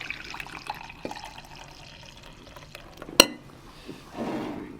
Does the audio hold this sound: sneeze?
no